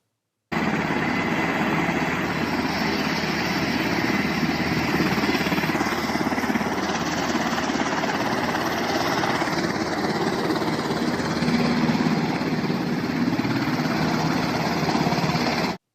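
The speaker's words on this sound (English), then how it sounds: "a popular video circulating that shows Taliban jihadis driving one of the Black Hawk helicopters" A Black Hawk helicopter taxiing on the ground, its turbine droning with a steady whine and rumble, running continuously at a constant level for the whole stretch without rotor lift.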